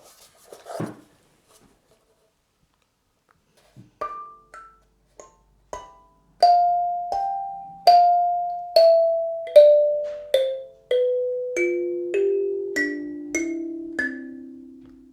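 Plucked metal tines of a 17-key kalimba ring out one after another in a slow descending run, each note chiming and decaying, with a few soft taps beforehand.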